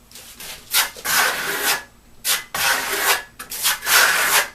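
A stainless steel trowel spreads Venetian plaster across a wall in circular motions, making loud, close scraping sweeps in uneven bursts with short gaps between passes.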